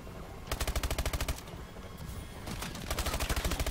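A fully automatic shotgun in a multiplayer shooter game fires rapid, evenly spaced blasts in two long bursts, loud and close, with a brief pause between the volleys.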